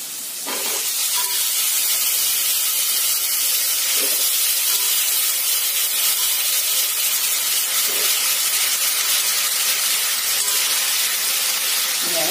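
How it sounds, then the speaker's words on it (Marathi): A continuous loud sizzle and hiss of spice tempering in hot oil for a pumpkin curry carries on steadily with a few faint clinks underneath. "आता याला फोडणी द्यायचं"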